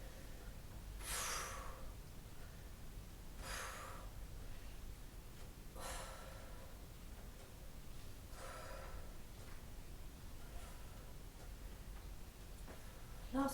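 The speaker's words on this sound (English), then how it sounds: "breathe in, breathe out" Breathing in and out during an exercise session comes as soft, airy breaths at a regular rhythm, about five of them, faint and close, over a quiet background hiss. No one speaks.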